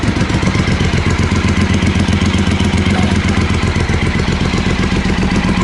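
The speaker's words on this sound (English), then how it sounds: "It's just like a little exhaust leak where those clamps are" A Triumph Speedmaster motorcycle engine idles close by with an exhaust leak at loose exhaust clamps, a rapid, uneven clattering putter and a raspy, ticking exhaust note, steady and loud.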